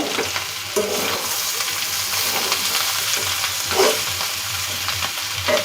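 Bitter gourd (karela) fries in a pan, giving a steady close sizzle with occasional stirring scrapes and clicks throughout, no one speaking.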